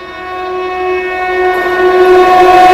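Dibrugarh Rajdhani Express passing with its horn held in a long, steady, harmonic blast, loud and close, swelling slightly as the train draws nearer, with rumbling rail noise beneath.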